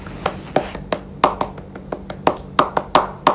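Indonesian scout clap performed by hand, sharp distinct claps in an uneven rhythmic pattern of single and grouped hits, close and crisp against a quiet background.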